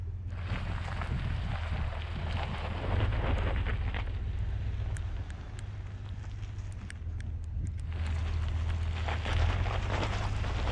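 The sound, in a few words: Ford F-250 7.3 gas truck idling up off-road hill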